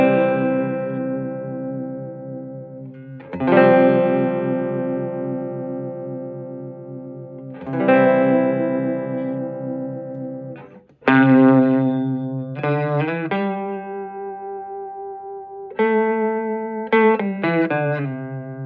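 Electric guitar through a Magnatone M6 amp with tremolo at its slowest speed and full intensity, chords swelling and fading in slow, deep pulses. Several strummed chords and note changes play alone, with no voices.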